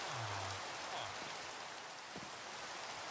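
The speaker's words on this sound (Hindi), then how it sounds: "अभी जल्दी से यहाँ पे बारिश वारिश हो रही है" Steady rain falls in Minecraft, a continuous even hiss with no voices over it, broken only by a few faint low game sounds.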